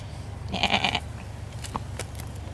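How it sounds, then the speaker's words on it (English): A goat bleating at a zoo, one clear wavering bleat close by, followed by quieter shuffling and background noise. "Say, that's a goat."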